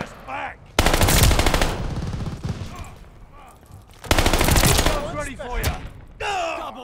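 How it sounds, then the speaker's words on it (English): Automatic gunfire in a video game rattles out in two long, loud, rapid bursts separated by a short pause, with game voices talking around and between the volleys. "Bro, I keep running out of ammo with this gun."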